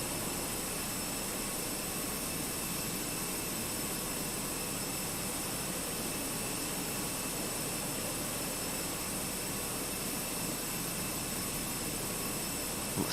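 Airbus A320 jet engines roar steadily during takeoff in Microsoft Flight Simulator, a dense, constant broadband rumble with a high whine, loud and unbroken throughout.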